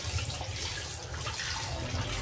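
Water from washing milkfish is poured out, making a steady, continuous splashing rush close by that lasts throughout without any talking.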